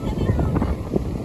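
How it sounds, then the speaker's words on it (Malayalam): Strong wind buffets the microphone at a beach, a loud continuous low roar with gusty swells, while a voice talks faintly underneath. "അത് ഇവിടെ നല്ല കാറ്റുണ്ട്"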